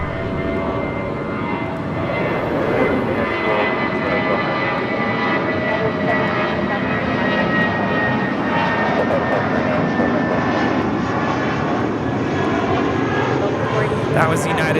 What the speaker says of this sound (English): That was United 797 departing to Los Cabos on an A320.